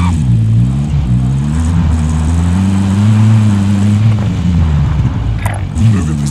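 Car engine in the Call of Duty Warzone battle royale game, a steady mid-pitched drone that rises and falls with revving as the vehicle drives, loud and continuous throughout with a faint voice near the end.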